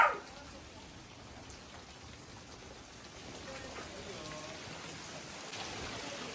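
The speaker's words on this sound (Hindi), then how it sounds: "बारिश हो रही है" Steady rainfall makes a soft, even hiss that holds for several seconds and grows slightly toward the end, fairly faint and heard without talk.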